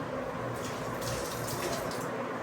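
Rice is washed under running water, a steady close splashing and trickling with brief swishes as the grains are stirred, and no one speaks.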